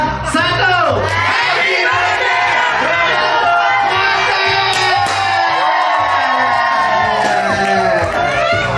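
A party crowd at a surprise seventeenth birthday celebration shouts and cheers together in unison right after a countdown, a loud, dense wall of voices holding steady for several seconds.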